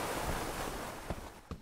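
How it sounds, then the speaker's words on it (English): Water splashing continuously from a fountain in a city game environment, a steady rushing wash with a couple of brief louder splashes near the end. "You got a fountain with audio."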